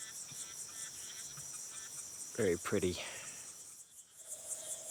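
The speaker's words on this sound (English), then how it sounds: "Check out this little fella. Nicely camouflaged as a leaf. I think that's called a katydid." A leaf-camouflaged katydid near a dam in Goodedulla gives a steady, pulsing high chirp throughout, close and fairly clear, with a brief spoken comment partway through.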